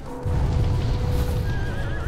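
A horse in the video game Shadow of the Colossus gives a loud, drawn-out whinny over a steady rumbling game background, with no talk.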